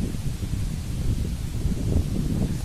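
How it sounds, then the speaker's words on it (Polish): Autumn wind blows steadily through leaves, a continuous rustling with a low, gusty rumble underneath. "Wiatr liście rusza"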